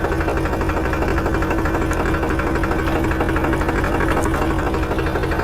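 A tractor engine runs steadily in high gear with a loud, continuous mechanical drone and vibration, close by and unbroken throughout.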